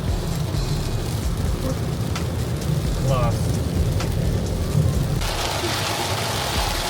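Heavy rain drums steadily on a vehicle during a road trip, a loud continuous hiss over a low rumble of driving, with a brief spoken word partway through.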